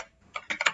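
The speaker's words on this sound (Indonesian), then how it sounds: "Kita ketikkan huruf kapital" Several quick keystrokes on a computer keyboard while capital letters are typed, a few close, moderately loud taps clustered after a short quiet start.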